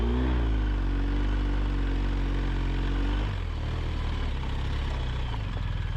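A BMW adventure motorcycle engine hums steadily while riding through a sand pit, holding its revs before dropping to a lower, rougher idle-like drone. Close and continuous, with no talking.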